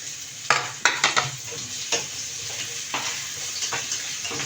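Sliced onion frying in oil in a pan, a steady sizzle broken by sharp, repeated scrapes and knocks of stirring, close and clear with no voices.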